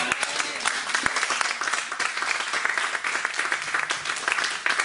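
A church congregation applauding, dense and continuous clapping from many hands that fills the space at a fairly loud, even level throughout, with some faint voices mixed into the crowd.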